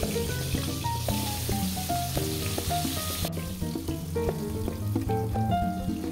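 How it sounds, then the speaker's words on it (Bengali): Potatoes fry with turmeric in hot mustard oil in a kadai over a high flame, a steady close sizzle with clinking and stirring, while music plays underneath. "কড়াইয়ে সর্ষের তেল গরম করে নিচ্ছি হাই ফ্লেমে, অ্যান্ড এরপর হলুদ দিয়ে আলুটা ভেজে নেব"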